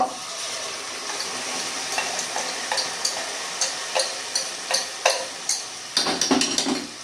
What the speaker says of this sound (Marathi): ह्याच्यामध्ये टाकायची डाळ